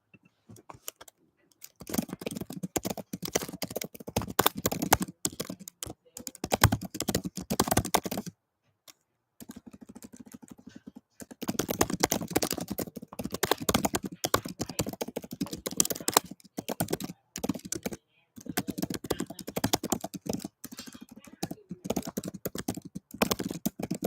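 Someone types quickly on a computer keyboard, producing close, dense runs of key clicks in bursts separated by a few brief pauses.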